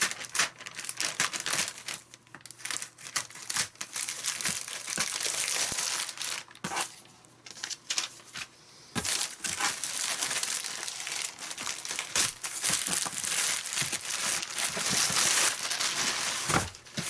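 Strong plastic packaging on a box is torn and wrestled open up close, giving continuous crinkling and crackling with sharp ripping bursts and brief pauses.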